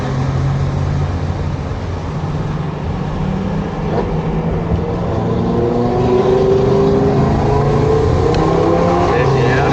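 Audi Q7 four-wheel-drive SUV on a parade lap at Bathurst during the 12 Hour race, a steady close engine and road drone with rising and falling revs, heard from inside the car.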